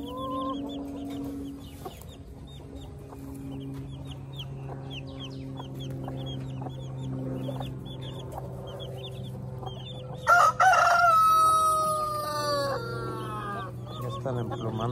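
Silkie hens cluck in scattered short calls over a low steady hum, then a rooster crows loudly and close by near the end.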